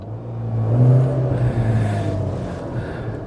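The engine of a Volkswagen Scirocco 3 coupe revs from inside the cabin, a low, humming drone that swells and settles once, with no talk over it.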